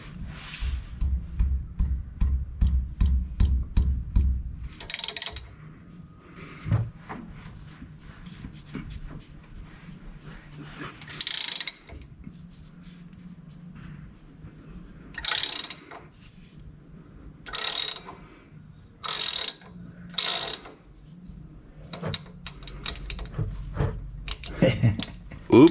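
Ratchet wrench clicking on a 1930 Model A Ford, with bursts of rapid ratcheting strokes separated by pauses and some metallic clunks, close and moderately loud.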